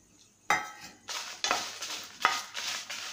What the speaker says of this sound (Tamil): மிளகாவும் அப்படியே ஆயில் சேர்க்காம அப்படியே லைட்டாக இந்த ஹீட்லேயே